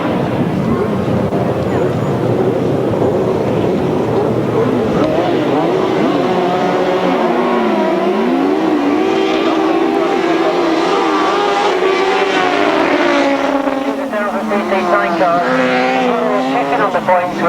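1000cc sidecar outfits racing on a grasstrack, loud engines droning and rising in pitch as the machines come round a turn, with a race commentator talking over them throughout.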